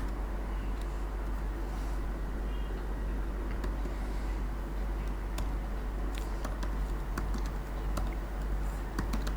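Quick, steady typing on a computer keyboard while coding an HTML page, continuous clicking over a constant low hum.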